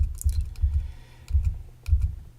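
Code is typed into the Eclipse IDE on a computer keyboard in a few short clusters of close, soft key taps with brief pauses between them.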